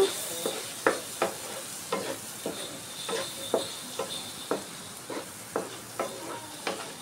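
Ridge gourd pieces with turmeric and chilli frying in oil, a soft continuous sizzle under a regular rhythm of spoon scrapes and stirs in the pan, close and fairly quiet, no voices.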